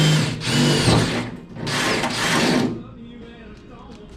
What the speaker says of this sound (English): we're going to go ahead and pop the pilot hole for the hole